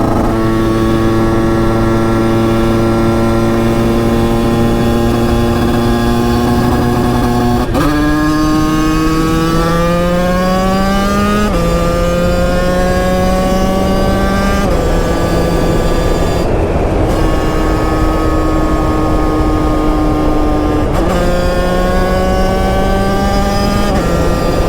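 A small 50cc motorcycle drones loudly and steadily through a series of revs, its pitch climbing and then dropping at each gear shift, with no one talking.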